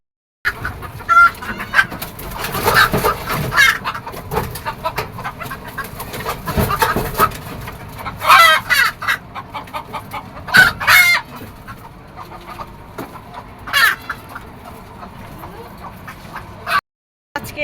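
Hens on a rooftop poultry farm cluck in irregular bursts with occasional crowing from a rooster, close and fairly loud throughout, with a brief quiet gap near the end.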